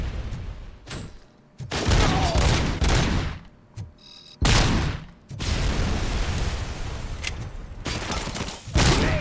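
Bursts of video game gunfire in RoboCop: Rogue City, loud and dense, coming in several sustained volleys separated by brief pauses, with booming thuds mixed in.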